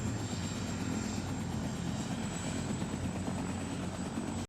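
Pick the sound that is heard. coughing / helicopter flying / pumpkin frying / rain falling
helicopter flying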